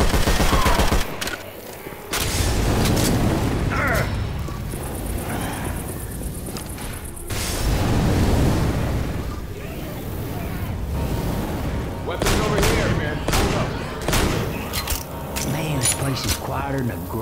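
Shotgun fire in the video game Left 4 Dead 2, repeated heavy blasts over a dense wash of combat noise and gunfire, with voices talking throughout.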